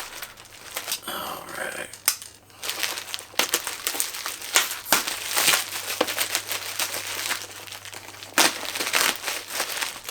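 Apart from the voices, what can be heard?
packing peanuts and bubble wrap crinkling during unboxing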